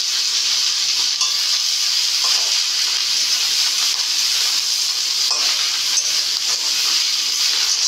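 Bengal arum leaves dropped into a pan of frying shrimp give a steady, loud, broad sizzle and hiss that keeps going with small crackles and no voices.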